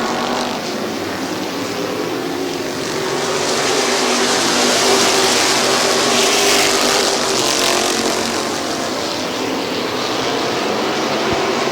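Race cars circling a speedway oval under green flag at a fall classic event, a loud, continuous engine roar that swells and fades slightly as the pack passes, heard from trackside.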